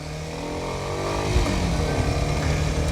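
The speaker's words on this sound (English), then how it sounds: "So I'm in third gear again. I'm going to slow down using just engine braking." Kawasaki Ninja 125 motorcycle engine running steadily in third gear while riding and slowing under engine braking, a close continuous drone with shifting revs and a slight swell partway through, no talk.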